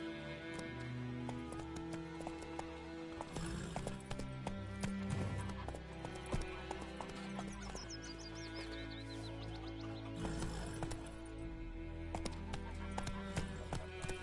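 Roach the horse's hooves in The Witcher 3 video game: a steady, even clip-clop of hoofbeats moving along under continuous game music, with no talking.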